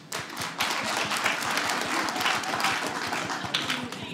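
Soft, scattered audience applause at a comedy show, a light pitter-patter of hands clapping steadily throughout at moderate level.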